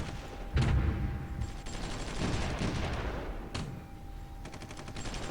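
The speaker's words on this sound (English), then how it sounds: "we got some tanks getting pummeled by artillery" Artillery pounding tanks in the strategy game Supreme Ruler 1936, a dense, continuous run of gunfire and explosions with sharp individual blasts standing out, loud and sustained throughout.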